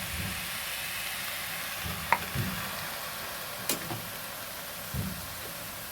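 Mustard-poppy paste going into a cooking pan and being stirred, a steady sizzle under a few soft scraping knocks of the spoon, close and alone with no talk.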